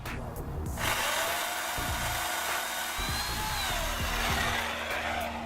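Electric pole chainsaw cutting through a tree branch: a whining motor rises and holds, with uneven bursts of cutting texture as the chain bites the wood, fairly close and alone.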